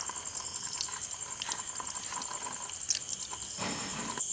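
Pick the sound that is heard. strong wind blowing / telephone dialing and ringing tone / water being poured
water being poured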